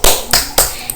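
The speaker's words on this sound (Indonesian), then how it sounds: "tepuk tangan" Hands clap sharply during an Indonesian English-learning song, three loud claps spaced roughly evenly across one second, the last followed by a quick softer double clap, close and clear with no speech.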